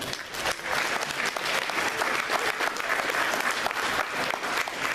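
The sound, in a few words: audience applause at awards ceremony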